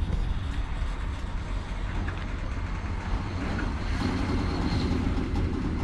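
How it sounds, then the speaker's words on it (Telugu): A train moves through the Singareni coal mines at Veerla Palli, giving a loud, steady rumble and rolling clatter that continues without a break. "ట్రైన్ అయితే ఇప్పుడు కదులుతుంది చూడొచ్చు."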